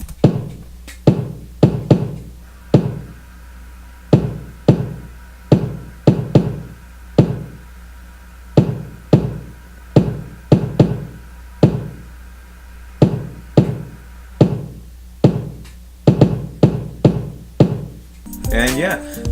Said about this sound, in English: we're also introduced to this final kick pattern, which sounds like this